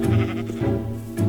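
Sheep in Minecraft bleat close and loud, two drawn-out calls with a shorter one between, alone with no talk.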